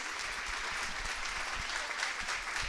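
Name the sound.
audience applause welcoming a speaker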